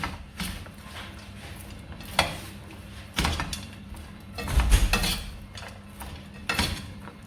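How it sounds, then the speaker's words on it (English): Brown sugar caramel popcorn is stirred in a frying pan with the heat off, giving quiet scraping, rattling and clinking of the utensil against the pan in irregular bursts. "I'm just mixing the brown sugar."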